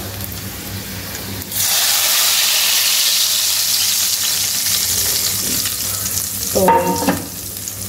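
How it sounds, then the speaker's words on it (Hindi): Loud sizzling of spices hitting hot oil as tempering for dal bursts in suddenly and continues steadily, with a brief clatter near the end and a single spoken word. "अभी जो है उसको मैं तड़का लगाने लगी हूँ दाल में"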